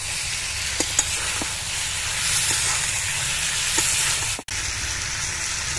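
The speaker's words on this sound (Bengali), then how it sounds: "মশলাটা মাছ আর আলুর সঙ্গে ভালোভাবে আবার মিশিয়ে নেব।" Stingray fish and fried potatoes stir-fried in masala in a pan, producing a loud, continuous sizzle and hiss with a few soft scraping stirs before a brief drop near the end.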